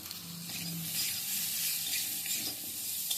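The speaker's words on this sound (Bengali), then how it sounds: "এবার একটু বেশ ভালো করে আমি ভাজা ভাজা মতো করে নিচ্ছি।" Amla (Indian gooseberries) fry and get stirred in a pan for pickle, with a steady close sizzle and soft scraping stir sounds and no talking.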